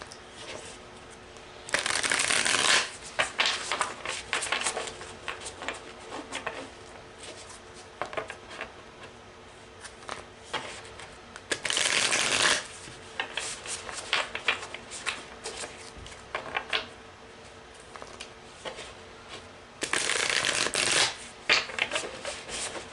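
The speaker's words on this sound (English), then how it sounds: "So let me go ahead and shuffle again." Tarot cards are shuffled in three separate bursts of crisp riffling, each a second or so long, with quiet handling noises between them.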